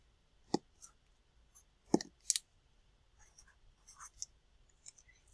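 Pen strokes writing isotope symbol notation make a few faint, sparse taps and short scratches in a quiet room, spread unevenly over a few seconds.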